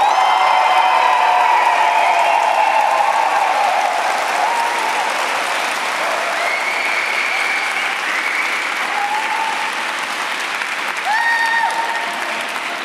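Loud, sustained applause from a slam-event audience near the Ishtar Gate, a dense roar of many clapping hands with scattered cheers and whoops that fades slightly toward the end.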